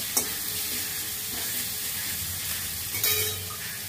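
Ginger frying lightly in hot oil for a banana flower ghonto: a steady close sizzle with a few sharp scrapes of a spoon against the pan, no voices.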